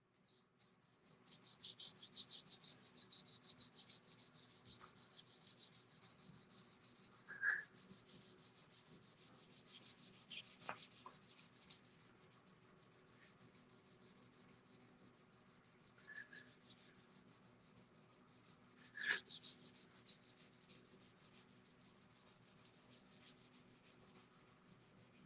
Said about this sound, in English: Hand sanding is so much fun.